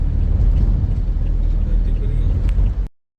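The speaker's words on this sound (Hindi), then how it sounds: "ये कितनी तेज क्यों चला रही है गाड़ी?" Car interior on a road near Vrindavan in fog, a loud steady low engine and road rumble of the moving vehicle, with people talking over it before it cuts off abruptly.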